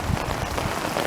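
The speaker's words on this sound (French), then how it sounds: "c'est des gouttes d'eau" Raindrops falling on a rainy evening at Pont Saint-Louis, a soft, steady patter across a brief moment with no voices.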